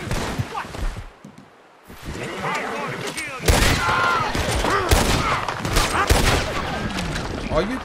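Heavy gunfire in Red Dead Redemption 2 during a rainy shootout: rapid, overlapping shots and blasts crackle close and loud, thinning briefly before a dense barrage takes over for the rest of the stretch.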